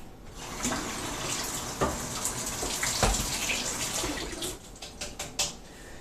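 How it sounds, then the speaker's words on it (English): Cold tap water runs steadily over a bow limb being reshaped on a silver recurve bow, a continuous close splashing gush broken by a few sharper drips and knocks, with no voices. "Let me just run this under cold water to make sure that it really does set."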